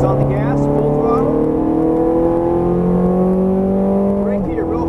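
A Ferrari F430 Scuderia engine runs at full throttle on a track, a loud, close, steadily rising howl that climbs through the revs before a brief dip near the end, with a driving instructor's voice partly audible.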